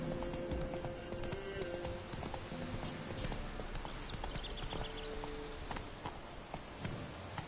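Roach the horse galloping in The Witcher 3: continuous quick hoofbeats pounding close over a dense rumbling game soundscape, with a short whinny-like cry partway through.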